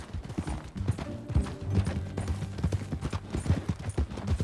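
Horse hooves clip-clopping in the Red Dead Redemption 2 video game, a steady close rhythm of hoof strikes at a riding pace with faint tack and gear rattle underneath.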